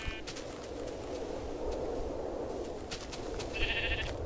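Sheep bleating in the video game Minecraft, heard as two short nasal bleats, one near the start and one near the end, over a constant background hum.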